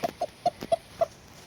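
A rooster beside a sand dust bath calls his hen with a run of soft, low clucks, about five short evenly spaced notes in one and a half seconds, close by and fairly quiet.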